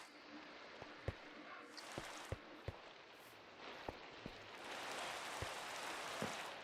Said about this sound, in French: Et bien évidemment, comme il se devait, il pleut maintenant.